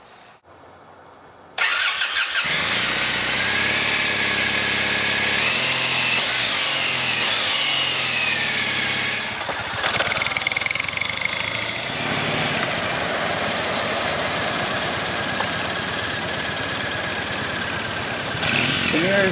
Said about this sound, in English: The mirrors don't really vibrate at all, even when I rev the engine up